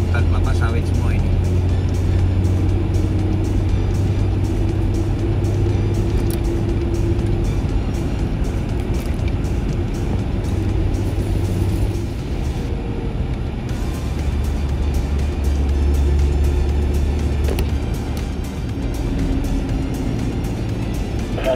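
Cars drive along a wide road through oil palm plantation in Sumatra, a continuous rumble of engine and road noise throughout, with people talking inside over the drone.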